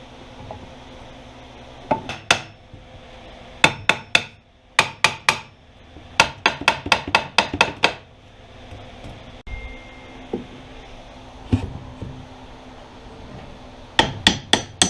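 An inner chain case is refitted on a Yamaha snowmobile, with sharp metallic hammer taps in quick clusters separated by short pauses, close and fairly loud, with no talking.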